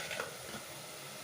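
Mutton chilli fry with turmeric sizzling in a pan, a soft, steady frying hiss with a faint stir or scrape near the start, quiet and with no voices.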